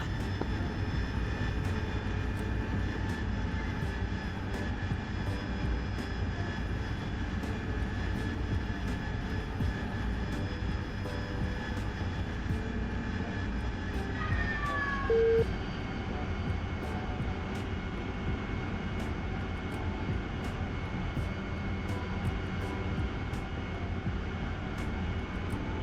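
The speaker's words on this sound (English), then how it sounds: "the jet has finished its turn heading 170" A jet aircraft turning clear of an aircraft carrier makes a loud, continuous engine roar that fills the whole stretch, its whine dipping slightly in pitch about midway through.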